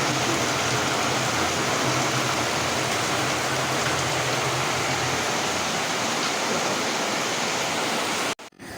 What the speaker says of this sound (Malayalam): പുറത്ത് ശക്തമായിട്ട് മഴ പെയ്യുകയാണ്